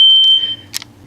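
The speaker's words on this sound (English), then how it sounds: "External alarm system." An external alarm system in the Megacorps video game gives a loud, piercing, steady electronic tone that cuts off after about half a second, followed by a couple of brief faint blips. No one talks.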